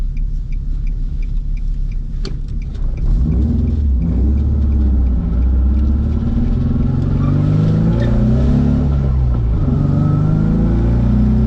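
A worn-out Z car engine with bad engine mounts revs and rumbles close by, a deep rough growl swelling and settling with heavy low vibration throughout, no talking.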